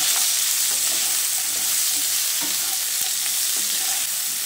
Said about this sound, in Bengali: নুনটা দিয়ে আলু ও ডাঁটার সঙ্গে আরও একবার ভালোভাবে মিশিয়ে নিচ্ছি